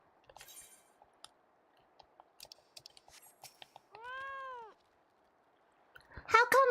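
A small cat meows once in the Final Fantasy XIV game, a clear rising-and-falling tone standing alone, surrounded by soft clicks and sparse game sounds, with a brighter burst of sound at the end.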